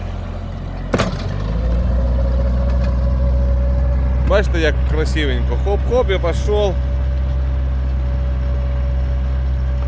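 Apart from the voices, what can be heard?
walk-behind tractor (motoblock) engine running in garden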